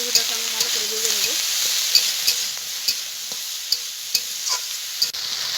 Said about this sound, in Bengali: সামান্য একটু লবণ, একটু হলুদ গুঁড়ো দিয়ে কচুটাকে আমি ভালো করে ভেজে নেব